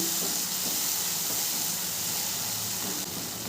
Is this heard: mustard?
yes